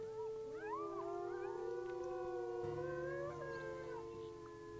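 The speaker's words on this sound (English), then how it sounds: "Let's do a howl with everybody." Several wolves howl together in the video game WolfQuest, long overlapping rising and falling wails that blend into a sustained chorus, clear and close against a quiet background.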